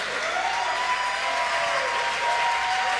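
A live concert audience applauds the musicians on stage, a dense, sustained wash of clapping that stays loud and even throughout, with a faint sustained tone lingering beneath.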